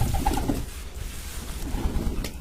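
Several pigeons coo in soft, repeated low calls while being fed millet, the cooing continuing steadily throughout with no talking.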